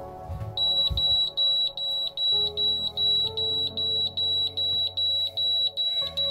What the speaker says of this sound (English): If a vessel is moving and comes within 1 nautical mile of us, you will have an alarm go off.